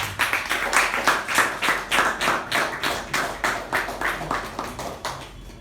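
An audience at a Toastmasters meeting gives a round of applause, with close, evenly pulsing claps from a modest group that keep a steady rhythm throughout without fading.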